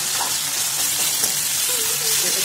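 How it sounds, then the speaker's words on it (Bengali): Roasted eggplant added to a spice mixture and frying in a pan, a loud, dense, continuous sizzle close by with faint stirring underneath. "এই পর্যায়ে আমরা বেগুন পোড়াটা এর মধ্যে দিয়ে দিচ্ছি।"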